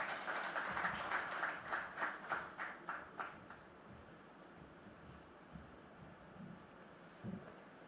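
Audience applause after a speech by Delhi's Chief Minister at a business conclave, a brief burst of rhythmic clapping that quickly dies away into quiet room noise with a few faint scattered sounds.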